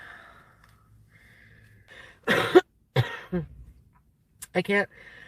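A few harsh, broadband coughs close to the mic inside a parked car in a hospital parking garage, in separate short bursts with quiet pauses between them.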